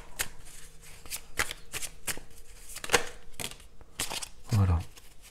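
Tarot cards handled and shuffled close up, a series of crisp riffles and soft slaps at irregular intervals, ending in a brief muffled thump.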